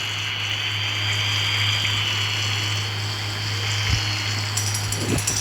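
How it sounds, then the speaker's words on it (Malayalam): Water splashing and gushing steadily in a farming video game as crops are watered, a continuous pouring hiss with a low hum beneath and a couple of brief knocks near the end. "ഞാൻ ഇവിടെ ഇങ്ങനെ വെള്ളം ഒഴിച്ചുകൊണ്ടിരിക്കുകയാണ്."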